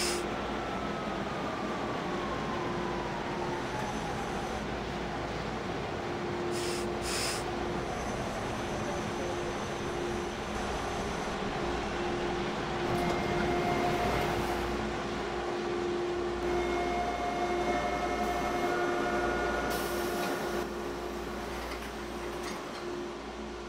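A TTC H6 subway train running on Line 2 Bloor-Danforth, heard from inside as a steady rolling rumble with a sustained wheel whine and squeal, plus occasional sharp clicks and knocks.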